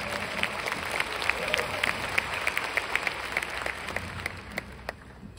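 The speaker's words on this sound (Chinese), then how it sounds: "为了要提醒我们，给他一个掌声。" An audience applauds during a talk or seminar, a sustained run of many hands clapping at moderate distance with some crowd murmur, fading toward the end.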